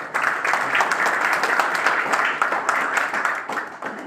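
Steady applause from the audience fills a political party press briefing in Patiala, a dense patter of many hands clapping at an even level from start to finish.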